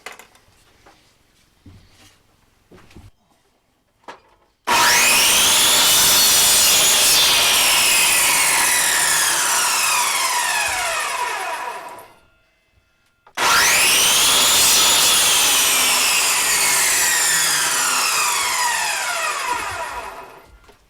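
A saw cuts through wood for a custom center console, two long loud sustained cutting passes separated by a brief pause, harsh and rasping up close, with quieter handling noises before the first cut.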